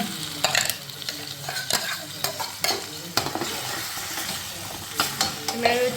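Onion and tomato being stirred in a hot frying pan, the spoon scraping and clinking at intervals over a steady, close sizzle that runs throughout.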